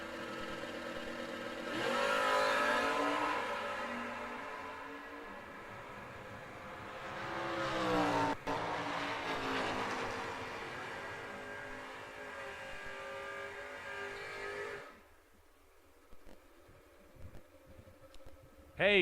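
Drag race cars, one a third-generation Camaro, launch at a Verge Quick Outlaw Series event in Bowling Green, with loud rising engine roar building and sweeping past before cutting off into quieter background noise.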